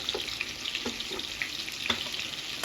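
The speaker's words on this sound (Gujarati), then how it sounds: "જીરું ક્રેકલ થઈ ગયું છે." Cumin seeds crackling in hot oil in a pan: light, scattered pops and sizzling crackles over a soft, steady frying hiss, close by.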